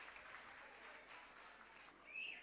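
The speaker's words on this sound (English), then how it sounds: "Please give them a big round of applause." Audience applause at a school convocation honouring top scorers: a faint, steady wash of clapping that swells slightly near the end, with a brief high whistle-like tone.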